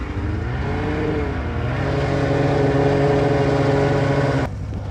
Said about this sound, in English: if I turn too hard left, it hits the gas